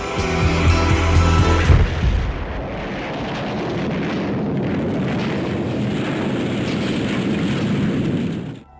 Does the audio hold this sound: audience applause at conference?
no